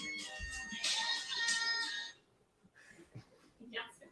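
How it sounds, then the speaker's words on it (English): A phone ringing during an eWheel Q&A livestream, a bright repeating electronic ringtone for about two seconds, then quiet room sound with faint stirring. "phone was ringing"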